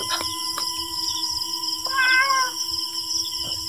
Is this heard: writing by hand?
no